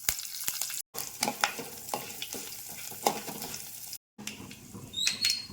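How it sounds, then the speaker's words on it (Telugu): A tempering of cumin seeds, chana dal and curry leaves fries in hot oil. Close crackling and sputtering come with stirring scrapes, broken by two brief silences. "ఇప్పుడు దీనికి పోపు వేసుకుందాం జీలకర్ర పచ్చనపప్పు కొద్దిగా కరివేపాకు"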